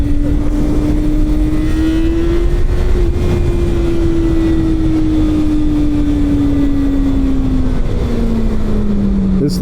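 A motorcycle engine revs hard and accelerates, a loud, close, continuous drone. Its pitch climbs, holds, then eases slightly lower as the ride goes on, with no talking.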